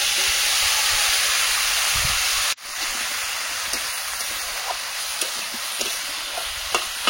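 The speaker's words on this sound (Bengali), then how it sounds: "মাঝখানটা ফাঁকা করে চিংড়ি মাছটা দিয়ে দেবো" Masala-coated prawns hit a hot pan on a clay stove, a loud steady sizzle that drops abruptly partway through, then settles into softer frying crackle with scattered pops and stirring clicks.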